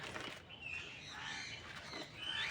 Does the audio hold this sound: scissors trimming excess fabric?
no